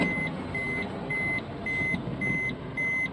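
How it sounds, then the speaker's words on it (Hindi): A Maruti Suzuki Baleno Alpha top-model car chimes with regular, evenly spaced high beeps while a door is open, heard inside the car over a steady background hum. "एक्चुअली टॉप मॉडल तो ये बीप करता है जैसे हम डोर खोलते हैं इसका"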